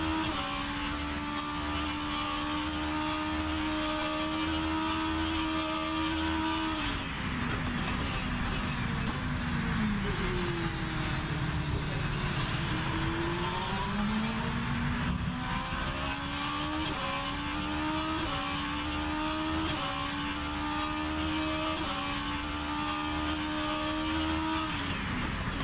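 A hypercar engine in rFactor 2 holds a steady, loud drone through a flying lap, its pitch rising through the gears, dipping under braking near the middle, then climbing again. No one talks over it.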